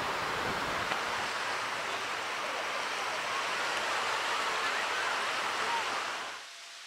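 Rough surf pounds a sandy beach backed by tall dunes, a dense, steady roar of breaking waves that holds loud and unbroken before dropping away abruptly at the end.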